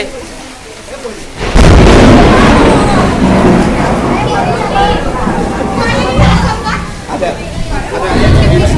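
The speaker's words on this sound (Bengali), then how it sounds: "বৃষ্টি চলছে," Heavy rain pours steadily after a sudden loud rumble of thunder, with lightning, at a high school, voices chattering nearby throughout.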